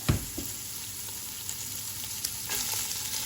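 Handfuls of cabbage go into a frying pan of browned, crispy-edged ham, sending up a loud, steady sizzle with a sharp crackle at the start and a few light clinks as it is stirred.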